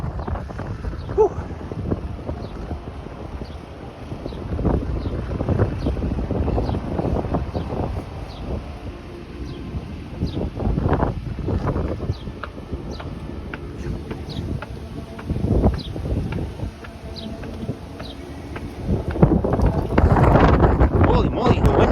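Strong wind gusts outdoors in downtown Toronto, a steady low roar buffeting the microphone throughout, with people talking intermittently over it and a few faint ticking sounds in the background.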